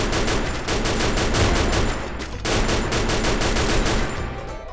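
Rapid automatic gunfire from the Free Fire video game rattles in dense, loud bursts, with a brief pause before another long volley that tapers off toward the end.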